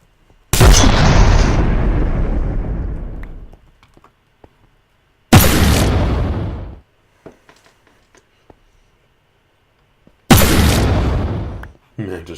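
Minecraft Open Turrets mod turrets blasting creepers, three loud booming explosions spaced several seconds apart, each a sudden blast that rumbles and fades over a couple of seconds, with faint clicks between.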